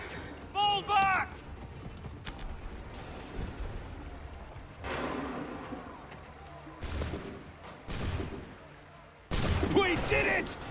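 A volley of musket fire rings out in Assassin's Creed III, with several sharp shots in quick succession amid battlefield bustle, hoofbeats and shouted voices.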